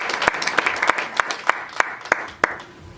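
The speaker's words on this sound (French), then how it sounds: "Clap for Jesus." In a church service, the congregation claps for Jesus in a strong unison rhythm, about eight sharp, evenly spaced claps that start firm and fade slightly toward the end.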